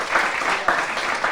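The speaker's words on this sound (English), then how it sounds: "Give him a big round of applause one more time." An audience at a book launch claps briefly, a dense patter of hands with small swells, close and loud, over faint background voices.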